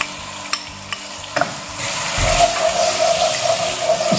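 Garlic and ginger hit hot oil for a white beef gravy: a few light clicks and scrapes at first, then a sudden sizzle that swells and holds steadily, close by and with no voices.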